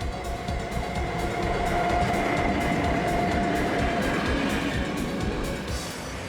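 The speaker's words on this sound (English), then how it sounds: "The train rises now high above the valley floor." A train on the Flåm mountain railway in Norway rumbles steadily along the track high above a valley, with a continuous roar and rhythmic clicking of wheels, heard from inside, with no talking.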